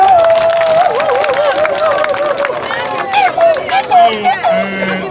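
Crowd clapping and cheering at an outdoor land-rights rally organized by civil society groups, heard under a man's amplified speech and crowd chatter, with scattered claps rising in the second half.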